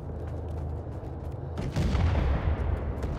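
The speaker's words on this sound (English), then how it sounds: "I'm playing on the Finnish side with the Lahti-Saloranta M26 light machine gun." Sustained firing from a Lahti-Saloranta M26 light machine gun in a Winter War game mod, a dense rumbling stream of shots that swells louder partway through, with no talking.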